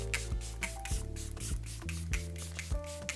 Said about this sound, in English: Now to melt everything into the skin, I'm gonna use my One Size setting spray, the powder melt.